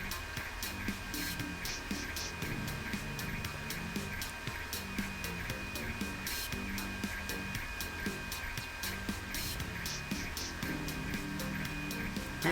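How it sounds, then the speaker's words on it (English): A printer hums and whirs continuously, its motor buzzing with small rhythmic clicks and brief higher bursts repeating at a fairly low level throughout. "That printer's cooking."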